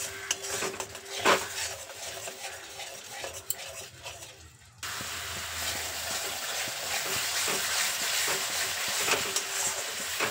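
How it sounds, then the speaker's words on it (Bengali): Spice paste cooked with added tomato paste in a pan: scraping stirs and clattering utensil knocks, then a steadier, fuller frying hiss with ongoing stirring, close and moderately loud without speech. "টমেটো বাটাটা দেওয়ার পর মশলার সাথে আবারও খুব ভালো করে মিশিয়ে নেব"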